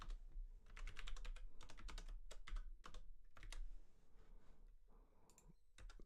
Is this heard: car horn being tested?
no